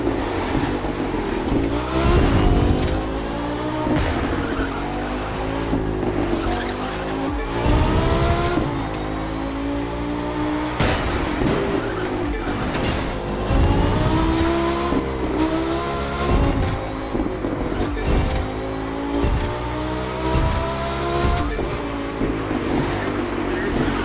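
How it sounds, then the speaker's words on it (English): Racing car engines in the video game The Crew 2 rev and whine, rising and falling through gear changes, loud and continuous, with occasional tire noise and faint talk mixed in. "listen to the engine"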